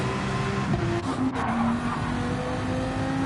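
Rear tyres spinning up on cold soft-compound tyres in a sim racing game, a sustained engine drone with tyre squeal that carries on steadily throughout, with no voices.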